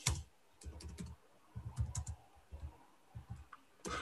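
Someone types on a computer keyboard nearby, quick uneven clusters of soft key clicks with short pauses between words, fairly quiet and with no voices.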